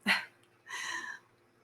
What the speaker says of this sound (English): that was Lola's adorable sneeze